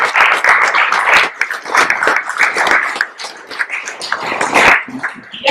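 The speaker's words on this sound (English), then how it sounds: "I think she deserves a big round of applause for that." An audience at an International Women's Day gathering gives a loud, sustained round of applause, dense close clapping from many hands that swells and ebbs for several seconds.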